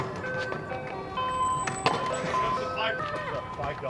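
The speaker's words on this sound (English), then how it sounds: "the ice cream truck's here, hold up." An ice cream truck's jingle plays loudly and steadily as a tinkly chiming melody, with people talking over it throughout.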